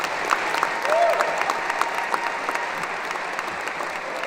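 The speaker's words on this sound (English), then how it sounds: "one more round of applause for choir." A graduation crowd at South Anchorage High School applauds the choir in a large hall, with steady continuous clapping and a few faint whistles and cheers in the distance.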